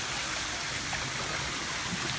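Water splashes and rushes steadily at an outdoor fountain, a faint, even hiss of falling water with no distinct bursts and no talking.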